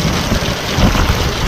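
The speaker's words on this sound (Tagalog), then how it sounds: "Malakas ang ulan guys." Heavy rain pours down in La Salvacion, Carmen, Bohol, a steady, loud, close wash of noise with no pauses and no voices.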